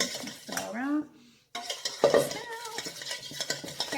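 Caesar salad ingredients get stirred in a bowl, with a continuous scraping, clattering utensil sound close by and a short pause before the mixing resumes.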